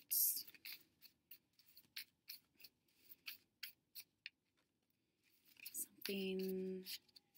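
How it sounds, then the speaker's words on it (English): Tarot cards are shuffled close up in a quiet room, a string of soft crisp riffling taps and slides, with a brief tonal squeak near the end. "I am shuffling this card."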